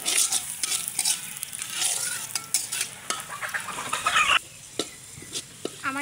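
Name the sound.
onions frying and being stirred in a pan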